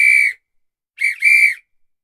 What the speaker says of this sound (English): Have you heard referees or coaches on the sports field whistle like this?